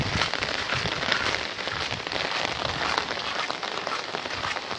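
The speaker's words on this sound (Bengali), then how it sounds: "গতকালকে থেকে যে বৃষ্টি হচ্ছে" Heavy rain pours steadily during a flood in Noakhali, a dense, even roar of drops striking surfaces, loud and close throughout with no voices.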